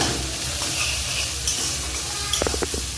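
Onions and chillies frying for chowmein while being stirred in a pan, a steady close sizzle with a few sharp scraping clinks of the utensil near the end, no voices.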